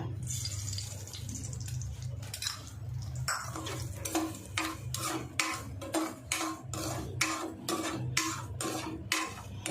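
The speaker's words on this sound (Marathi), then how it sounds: "आता आपण हे तांदूळ टाकूया" Barnyard millet rice roasting in a pan over a medium gas flame, stirred in steady rhythmic scraping strokes that grow more regular toward the end, over a low constant burner hum.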